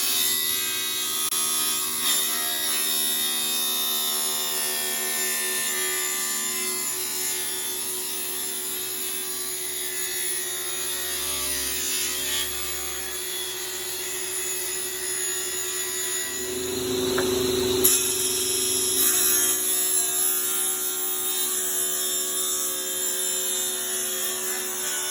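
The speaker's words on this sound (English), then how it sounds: "let's get on the table saw" Table saw cutting through wooden boards in a home workshop, a steady loud motor whine throughout with a heavier burst of cutting noise near the end, no talking.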